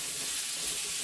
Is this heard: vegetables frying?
yes